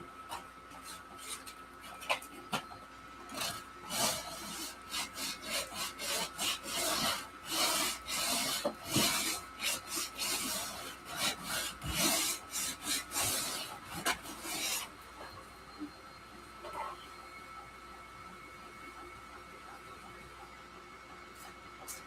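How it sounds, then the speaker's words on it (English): A wood piece has its edge sanded by hand in steady, rhythmic rasping strokes, close and fairly loud, continuing for a long stretch before thinning out to a few lighter rubs near the end. "I'm going to sand this piece a little bit on the edge"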